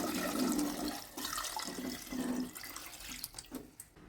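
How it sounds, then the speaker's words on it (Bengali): Cold water pours and splashes over strained, softened spinach leaves in a kitchen, a steady, fairly quiet rush with some irregular dribbles toward the end. "এর মধ্যে এবার ঠান্ডা জল দিয়ে দেব।"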